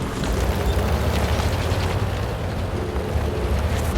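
Continuous roaring explosions and rumbling booms from artillery fire in a tank video game with a Skoda T24 tank, dense and loud throughout with no pauses.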